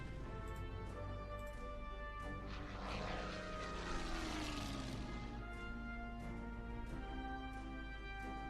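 A bomber's propeller engines in the Order of Battle WWII strategy game drone loudly and steadily, with a swelling pass in the middle as the aircraft sweeps by over continuous game music.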